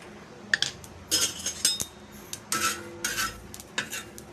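Mustard seeds heating in oil in a pan over a low flame for a North Karnataka red chutney, giving scattered sharp crackles and clinks in quick irregular bursts, close and fairly loud with no talk.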